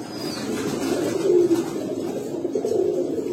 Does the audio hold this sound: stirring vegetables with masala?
no